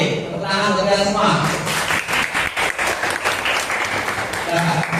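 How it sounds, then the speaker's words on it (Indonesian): Students clap their hands together in a classroom lesson, a short burst of close, busy applause that follows talk at the start and carries a few voices beneath it. "tepuk tangan untuk kalian semua."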